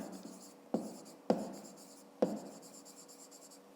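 Pen writing on paper during a fifth-grade math exercise: close, soft scratchy strokes broken by several sharp taps as the pen lands, with no talk.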